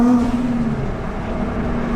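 A Ford Transit van with an MSRT conversion hums and revs steadily at close range, a continuous low mechanical drone with a slight rise and fall in pitch.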